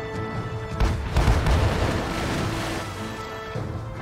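Cannon fire from a sailing ship's bow guns in the naval game Sailing Era, a heavy low boom rolling into a long rumbling wash that lasts several seconds, loud and alone with no talk.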